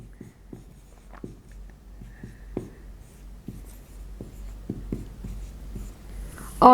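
Chalk or a marker taps and scratches on a board in short, sparse strokes, close and fairly quiet in a still room, ending with a brief louder knock.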